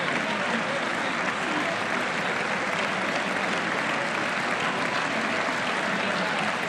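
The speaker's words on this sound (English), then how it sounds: "Y'all, that is a long ovation." Sustained, dense applause fills a large chamber as Congress gives Trump a long ovation, steady and loud throughout with crowd noise beneath.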